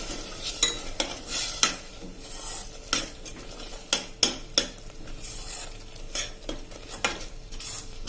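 A metal spoon clanks and scrapes in a pan of masala for guvar curry while a soft sizzle runs underneath, with sharp, irregular strikes close by.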